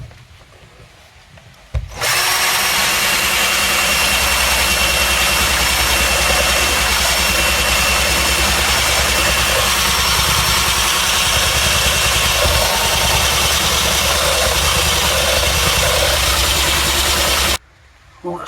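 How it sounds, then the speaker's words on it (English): Loud, steady whir and grinding of a power drill fitted with an abrasive head, held close while stripping rough adhesive off a surface during plumbing work, running continuously for about fifteen seconds before stopping abruptly. "I'm just going to take that down with the drill"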